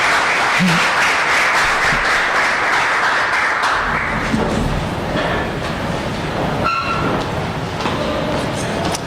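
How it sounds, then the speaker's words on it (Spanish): Audience at a talk on new press models and newspaper companies applauds a speaker being introduced, a loud continuous wash of clapping that slowly thins, with murmuring voices underneath. "quiero que reciban con un gran aplauso al señor Jesús Martín"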